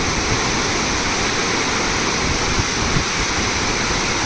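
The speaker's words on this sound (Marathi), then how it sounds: "मोठ्या प्रमाणात पाव पावसाचं पाणी किंवा पुराचं पाणी वाहून जात असल्याचे दिसून येते" Loud, steady roar of floodwater rushing through a dam spillway on the Ghod River, dense and unbroken, like a heavy flow pouring through a channel up close.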